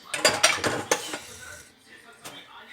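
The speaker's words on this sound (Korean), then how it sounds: "자, 마지막으로 맨 밑에 있었던 그릇을 이렇게 주 흔들어요" Bowls are shaken and handled during dishwashing, giving a quick cluster of close clattering ceramic knocks and rattles that taper into quieter handling sounds, with one last faint clink near the end.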